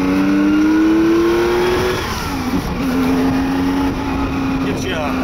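A 1983 Porsche accelerates and shifts gears, its engine note climbing, dropping at each shift and climbing again, heard from inside the car at close range with steady road noise beneath.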